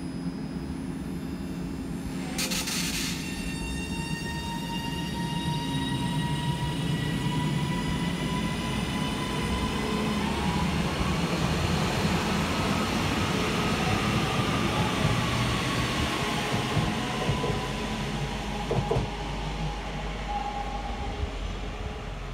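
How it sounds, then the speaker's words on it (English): A Northern Class 331 electric multiple unit pulls out of Chelford station on a Manchester Piccadilly to Crewe service, a steady rumble with rising whine tones, heard from the platform. "Next to depart from the station will be 331-012, working the 1138 Northern service from Manchester Piccadilly through to Crewe."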